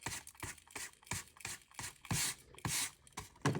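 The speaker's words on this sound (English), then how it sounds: "you are going to brush all of your cord out so that way it is fully even and brushed out" A brush is drawn repeatedly through macrame cord for a witch broom craft, making a rhythmic series of close, scratchy strokes at roughly a steady pace, with no talking.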